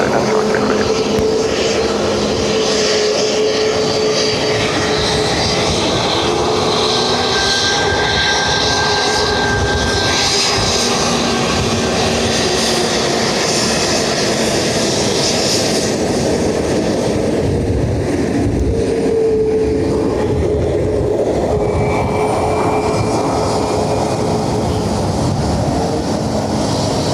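A Qatar Airways Boeing 777 with a blown tyre lands at Dublin Airport, its steady, loud engine roar filling the air continuously and evenly at close range with no talking over it.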